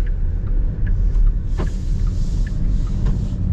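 Interior of a 2024 Porsche Panamera setting off: a steady low engine and road rumble close around the cabin, with faint light clicks and ticks over it.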